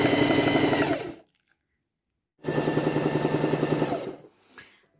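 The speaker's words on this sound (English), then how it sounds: "So I'm just going to do a straight stitch" Sewing machine straight-stitching jelly roll fabric strips for a quilt top, two bursts of fast, steady mechanical whirring, each about a second or more long, separated by silence.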